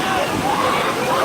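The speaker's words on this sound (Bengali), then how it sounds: "ঢেউয়ের আকার বড় না হলেও যেভাবেই আসছে ঢেউগুলি এসে সমুদ্রের তটে আশ্রয় পড়ছে" Continuous rushing wash of small sea waves running up onto a crowded beach at Digha, steady and fairly loud.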